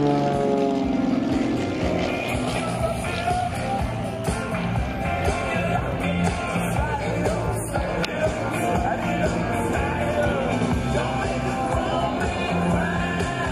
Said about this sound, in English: Then he spins the aircraft at the top of the outside loop